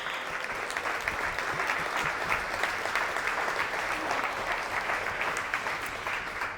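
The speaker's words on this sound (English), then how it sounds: "Everyone give them a big round of applause." Sustained audience applause fills a gala awards ceremony hall, steady and dense clapping from a large crowd throughout, with no speech over it.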